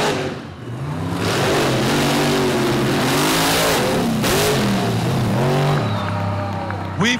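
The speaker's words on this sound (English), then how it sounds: "Both drivers go up on the RPM." Drag race vehicles on a dirt track rev their engines at the start line, loud throbbing engine notes rising and falling in pitch, overlapping and close, with a commentator's voice faintly underneath.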